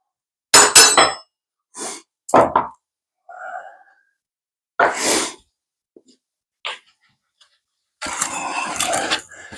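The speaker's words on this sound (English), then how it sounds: "Hopefully this hammer doesn't mess with Danny too much." Hammer blows during hand-tool woodworking joinery for a cabinet, cutting a rebate: several sharp, loud percussive strikes spaced irregularly, separated by brief pauses, with a denser burst of knocking at the end.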